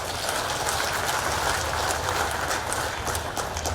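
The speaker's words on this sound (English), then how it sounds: "That calls for a big round of applause." A large crowd at a Trinamool Congress political gathering applauds, a dense, steady roar of clapping that fills the whole stretch without pause.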